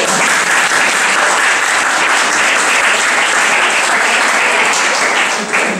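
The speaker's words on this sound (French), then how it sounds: "Extraordinaire, vraiment, on peut l'applaudir." Loud, sustained audience applause fills a theatre workshop performance hall, dense and even clapping from many hands throughout, with no voices over it.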